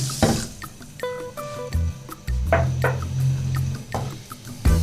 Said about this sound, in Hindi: और 1 गिलास पानी डालेंगे।